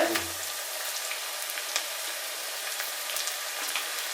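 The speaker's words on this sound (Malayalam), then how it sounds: "ഇതിലേക്ക് നമുക്ക് ഇനി ഇച്ചിരി കറിവേപ്പിലയും കൂടി ഇട്ട് കൊടുക്കാം." Curry leaves sizzling in hot oil for a garlic pickle, a bright crackling hiss with scattered pops and spits, steady and close after a brief low thump at the start.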